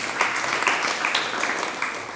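Audience at a spiritual discourse hall clapping together in steady, moderately loud applause that carries on without a break.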